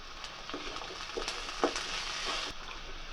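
Onion pieces and green peas tipped into a hot pan, setting off a steady sizzle with a few soft clatters and stirring bursts, close and moderately loud with no voices.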